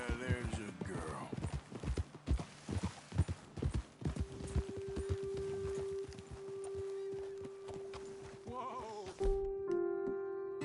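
Steady clip-clop of horse hooves walking at an even pace in the video game Red Dead Redemption 2, with occasional animal bleats and a faint musical tone underneath.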